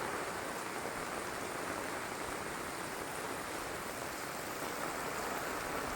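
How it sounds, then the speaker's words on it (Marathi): Heavy monsoon rain pours down over rice paddy fields in Konkan, a dense, loud, unbroken hiss of rainfall. "भयानक भयानक पाऊस"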